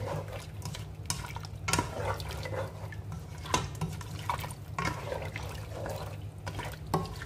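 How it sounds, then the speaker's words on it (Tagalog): Water poured into a pot of lamb stew broth, a soft continuous trickle with scattered drips and splashes over a low steady hum. "pag kulang pa, lagyan natin ng kunting tubig."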